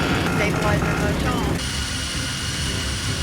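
Loud, continuous airliner engine roar with mechanical whirring as the engines surge; partway through the tone shifts abruptly to a steadier, hissing surge.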